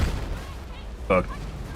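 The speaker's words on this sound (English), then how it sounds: "You blew up my C4 and blew up the vehicle" In the Battlefield 6 video game, C4 charges detonate and blow up a vehicle: a short, sharp blast bursts out over a steady bed of battle noise.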